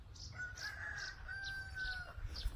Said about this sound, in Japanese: ほんとニワトリどこにいるんだかわからない。